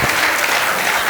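Crowd applause fills a hall during a Mahesh Navmi 2026 celebration, welcoming the festival chief on stage; dense, steady clapping at close range with no pauses.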